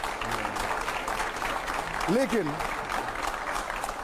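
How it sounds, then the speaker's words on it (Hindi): An audience gives a steady round of applause at moderate level under ongoing sound, with a short vocal exclamation near the middle. "इसमें जोरदार तालियां हो जाए जरा।"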